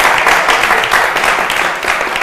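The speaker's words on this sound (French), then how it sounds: "on l'applaudit" A television studio audience on an Ivorian youth talk show claps in a sustained, even round of applause that fills the whole stretch.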